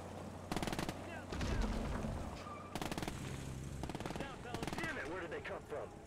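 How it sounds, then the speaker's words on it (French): Machine gun fire in a WWII video game, several rapid bursts of automatic fire, fairly faint and distant, with other battle noise and talking mixed in. "Il y a une bataille de mitrailleuse."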